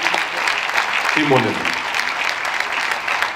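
Audience applause at a municipal New Year's greetings ceremony in Saint-Victoret, a steady broadband clatter of many hands filling the room while a voice speaks briefly over it.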